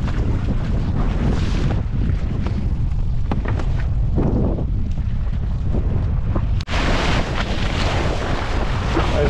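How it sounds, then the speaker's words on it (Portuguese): Strong wind at sea on a small fishing boat, a loud, continuous gusting roar buffeting the microphone over rushing water, broken by one sharp momentary dropout. "Olha aí que maravilha de vento"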